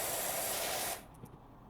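Steady pressure washer spray hissing across a car in a pressure washing simulator game, loud and continuous for about a second before cutting off abruptly, leaving quieter background.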